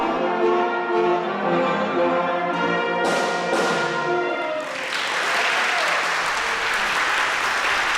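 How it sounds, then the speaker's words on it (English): A school band finishes a circus-themed concert with a piece from The Greatest Showman; sustained brass chords fade out, then the crowd breaks into loud, dense applause and cheering that carries on to the end. "the crowd cheered and applauded with the sound of joy brought to their ears"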